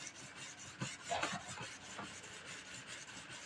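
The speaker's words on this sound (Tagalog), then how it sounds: "Sige lang akong liha ng liha rito." Sandpaper rubbed against a hard stone amulet, giving a close, soft rasping scrape in a few uneven strokes with brief louder bursts, and no voices.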